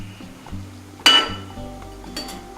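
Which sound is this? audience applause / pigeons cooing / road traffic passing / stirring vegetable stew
stirring vegetable stew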